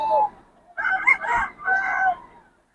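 A Lemon Sweater bullstag rooster at a market lets out a short call and then a fuller, moderately loud crow with a brief break in the middle, fading to quiet at the end.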